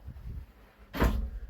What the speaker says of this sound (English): There's some sliding double doors. So this one's called the barn